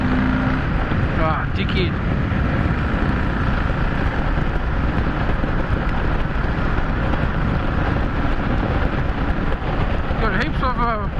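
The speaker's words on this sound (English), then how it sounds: "Listen to the exhaust." A motorcycle engine roars steadily and loudly with constant wind rush, the exhaust note rising as it accelerates to overtake a truck in a passing lane; someone speaks briefly over it.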